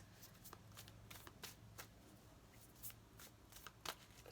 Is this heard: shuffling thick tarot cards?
yes